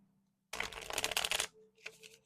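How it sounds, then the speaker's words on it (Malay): A deck of tarot cards is shuffled in a close, crisp riffle of about a second, followed by a few softer card slides and taps. "Saya akan mencabut 3 kad, menarik 3 kad untuk menjawab persoalanmu."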